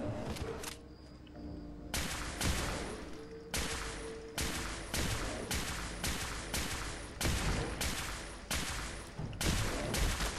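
A weapon firing exploding bullets in Fallout 4 Far Harbor, loud repeated bursts of rapid shots separated by short pauses, each burst ending in sharp impact blasts, close and continuous throughout.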